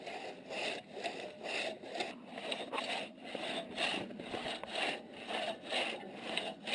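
A hand saw cuts through wood in steady back-and-forth strokes, each pass a loud rasping scrape with a regular rhythm, close and alone.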